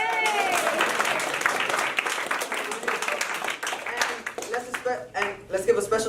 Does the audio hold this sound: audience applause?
yes